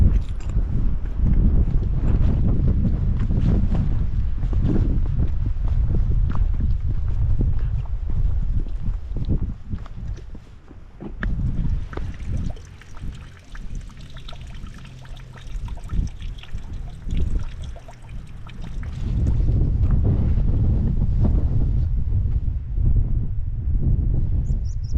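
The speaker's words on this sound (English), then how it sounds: "not been able to say that much towards the end because of the wind" Strong wind on a mountain hike up Carnedd Llewelyn in Snowdonia, North Wales, roaring in loud sustained gusts that buffet close by, easing slightly in the middle before surging again.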